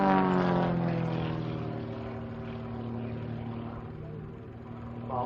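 An aerobatic propeller plane with a 315 hp Lycoming engine, trailing smoke at an air race day, roars past with a strong harmonic drone whose pitch falls slightly as it passes, loud and steady throughout.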